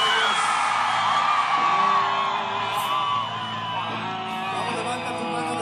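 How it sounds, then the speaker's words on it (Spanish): A crowd at a worship gathering shouts and whoops for joy in a loud, sustained roar that carries on for several seconds, with voices rising and falling together. "Alguien da un grito de júbilo al Rey de Reyes."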